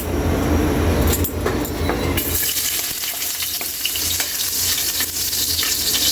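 Garlic drops into hot cooking oil while pork sinigang is being prepared. A bright, crackling sizzle swells after about two seconds and holds as a close, steady hiss, with a few clinks of a utensil.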